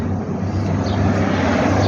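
An airplane passes overhead outdoors, a loud, steady, broad engine roar with a low hum, filling the moment with no break.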